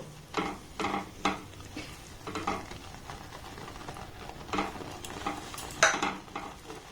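Rice flour and water being stirred in a pan over a low flame, a series of soft scraping and clinking strokes in an uneven rhythm over a faint background sizzle, with no voices.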